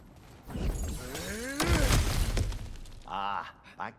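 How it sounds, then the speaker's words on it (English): Objects shatter and smash in God of War Ragnarok, with sharp breaking crashes landing around half a second and near two seconds, mixed with game effects; a voice speaks briefly near the end. "back to smashing through things for fun and profit"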